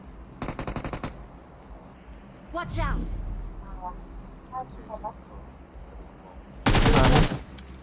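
Gunfire in PUBG Mobile, with two short bursts of rapid automatic shots, one near the start and a louder one near the end, and a few scattered shots in between, while people talk.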